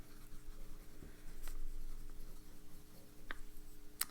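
A Lamy Scala fountain pen with a medium nib scratches softly across paper in close, quiet strokes, with a few faint taps.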